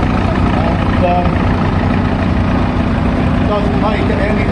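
A David Brown 900 tractor idles at a rally parade, its steady engine rumble running the whole time under crowd noise and a voice over a loudspeaker.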